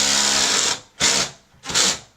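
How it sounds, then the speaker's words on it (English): A drill drives a stainless steel screw into a wooden wall stud in a bathroom, a loud close whirring burst followed by two shorter pulses as the screw seats. "you know when you've hit the mark, because the drill makes such a lovely noise"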